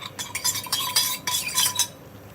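A utensil scrapes and stirs sweet and sour sauce with vinegar in a pan, giving a series of close, loud scraping strokes in an irregular rhythm with no talking.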